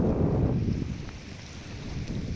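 Steady wind rushes across the microphone on Vakarbuļļi beach in Riga, in low, rumbling gusts, strongest at the start and then easing to a constant blustery roar, with no voices.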